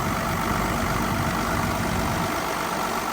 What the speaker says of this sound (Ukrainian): Мотор, по-моєму, ще краще став робити.